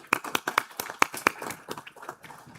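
An audience at an insurance association event gives a short round of applause, a few close, distinct claps that quickly thin out and fade within a couple of seconds.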